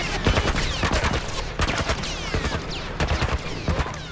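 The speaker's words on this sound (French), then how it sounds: "Un genre de tourelle militaire." Military turret gunfire in The Last of Us: rapid bursts of loud, sharp shots in irregular clusters, close and dominant, with brief gaps between volleys and whistling ricochets trailing overhead.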